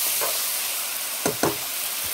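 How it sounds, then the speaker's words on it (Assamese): Dried fish sizzling in a hot pan, a steady frying hiss with a couple of brief stir or clatter knocks near the end, close and moderately loud. "এয়া ভাজি শুকানকৈ ভাজিছোঁ"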